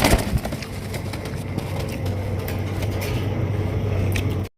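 Pigeons at a pigeon sale give soft, low cooing that repeats steadily under a busy background murmur, fairly close and moderately quiet.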